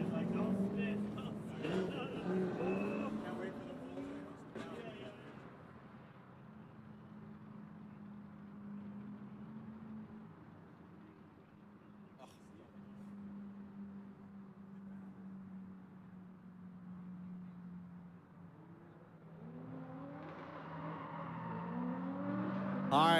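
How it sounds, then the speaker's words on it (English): A Subaru BRZ drift car on a drift series qualifying course, its engine a steady low drone that rises toward the end, mostly under an announcer's commentary. "Jesse Joe Curtis in that odd man out performance Subaru BRZ coming into the course"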